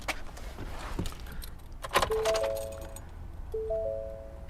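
Keys for a 2017 Ford F150 jangle and clink close by in a couple of loose bursts, followed by a few short electronic chime tones, with no talking.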